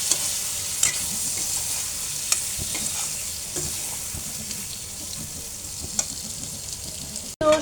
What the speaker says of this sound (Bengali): তো শুটকিটা ভুনা হয়ে গেছে, একদম তেলটা উপরে উঠে আসছে।